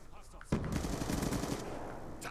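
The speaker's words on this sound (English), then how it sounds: "Yeah, keep shooting it." Rapid gunfire aimed at a sentry gun in Black Ops 2 on Wii U, a sudden loud burst of automatic shots that starts abruptly after a short quiet moment and keeps rattling steadily to the end.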